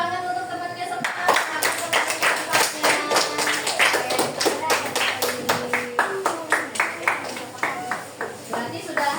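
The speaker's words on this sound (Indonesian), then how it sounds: "tepuk tangan untuk temannya semangat" Classmates in a classroom clap together for a fellow student, a steady run of sharp, fairly close handclaps lasting several seconds, with voices murmuring underneath.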